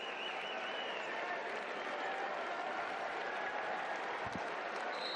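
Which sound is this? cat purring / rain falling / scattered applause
scattered applause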